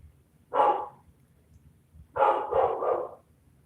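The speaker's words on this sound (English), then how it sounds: "sorry, y'all, I have dogs." Indoor dogs barking fairly close but not loud: one single bark, a pause, then a quick run of three barks.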